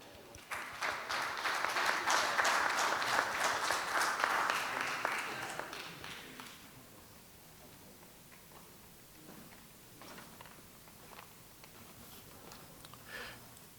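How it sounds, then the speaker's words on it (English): Audience applause welcoming the Secretary General of the Indonesian Master Tailor association to the stage at a tailoring congress in Busan, a dense sustained clatter for about six seconds before fading to quiet room noise with a few scattered claps. "Please join me in welcoming him with a warm round of applause"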